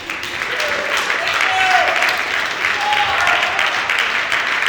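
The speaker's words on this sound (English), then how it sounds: "Can we just get one quick round of applause for this man?" Crowd applause at a boxing weigh-in in a bar venue, loud continuous clapping and cheering with voices and chatter mixed in throughout.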